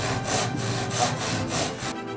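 A Suizan Japanese Ryoba pull saw, 9 1/2 inch with crosscut and rip teeth, cuts wood in steady rhythmic strokes, about five rasping passes, close and clear with no voices.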